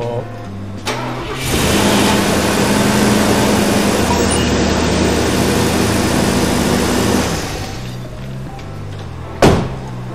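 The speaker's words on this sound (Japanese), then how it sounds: "じゃあエンジン実際かかるのか、ちょっとやってみましょうね。" A Mercedes-Benz 450SEL W116 with a timing-chain engine cranks briefly, fires and settles into a steady, loud, even idle, then the idle drops away near the end before a sharp thunk.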